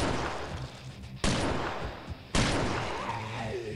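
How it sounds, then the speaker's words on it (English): Shotgun blasts in the mobile zombie shooter Call of Mini Zombies: two loud, sharp broadband booms about a second apart over constant dense game noise. "your shotgun's a tank"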